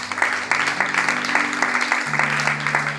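A church congregation applauds to acclaim Jesus Christ, a steady, dense clapping from many hands sustained throughout, with music underneath.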